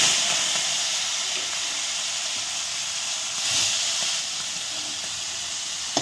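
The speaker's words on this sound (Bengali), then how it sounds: "এখন কড়াই তেল গরম হয়ে গেছে, তেলের মধ্যে আমি এখন মাছটা একটু ভেজে নেব" Prawns frying in hot oil in a kadai give off a steady, hissing sizzle that holds evenly throughout, with a brief swell midway and a small clink at the end.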